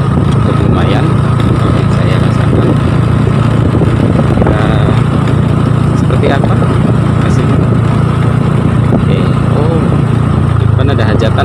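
Motorcycle engine noise recorded while riding, a loud continuous rumble with buffeting vibration and wind throughout, and a voice speaking over it.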